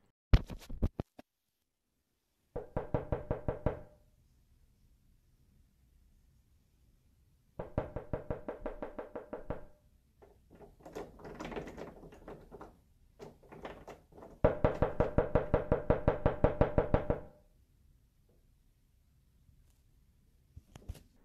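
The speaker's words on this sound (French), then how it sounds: "il entend des gens toquer et tirer sur la poignée pour essayer de forcer sa porte" Someone knocks hard and fast on a door in several loud bursts, with quieter rattling and scraping in between that fits a handle being pulled. There is no talk.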